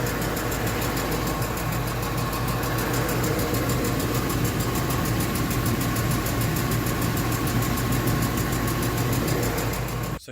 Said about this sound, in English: Possibly a lifter that is ticking, and it just started on this truck.